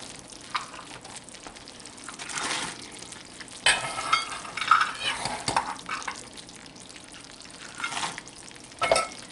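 Pecan praline candy mixture being stirred in a pot on the stove, soft scraping and sizzling strokes that come and go, with a few light clinks of utensil against metal.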